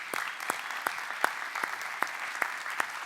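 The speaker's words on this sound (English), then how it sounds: "So big round of applause again." At the Culture Summit in Abu Dhabi, a small audience claps for performers. A few faint, distinct claps land at a steady, slow rhythm over a quiet background.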